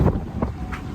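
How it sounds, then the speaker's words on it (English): Strong wind buffets the microphone in loud, rumbling gusts in an old town during Ramadan, with no one speaking. "It's a windy day here."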